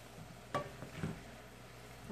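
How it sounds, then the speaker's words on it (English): Seasonings such as black pepper, salt and garlic are stirred into potatoes, peppers and onions in a pan on medium heat. A soft background sizzle is broken by a few faint scraping clinks of the utensil. "We're just going to mix those seasonings in."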